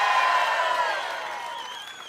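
A big outdoor crowd cheers and whoops loudly at a Bassmaster Elite fishing tournament weigh-in at Lake Guntersville, the roar staying dense and sustained before slowly easing off, with no talking over it.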